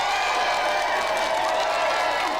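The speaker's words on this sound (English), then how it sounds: "round of applause for our special guest" Studio audience applause for a special guest on a television games show, a dense, steady wash of clapping and crowd noise held at an even level throughout.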